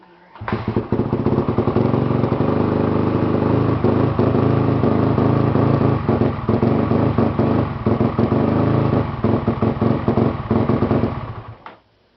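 A 2003 Yamaha WR250F dirt bike engine with starting problems fires up and runs loud and close, its raspy single-cylinder drone holding for about ten seconds with slight throttle blips before cutting off.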